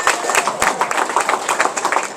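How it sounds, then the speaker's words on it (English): Applause from a boxing event crowd greeting James Prince, manager of Andre Ward: a steady, dense patter of clapping hands that holds at an even level for a couple of seconds. "Nice round of applause, James"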